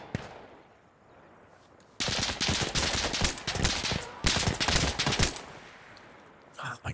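Two loud bursts of rapid gunshots from the Insurgency Sandstorm video game on the Farmhouse map crack close by, each about two seconds long, separated by a brief pause after a quiet start, with a distant shot at the end.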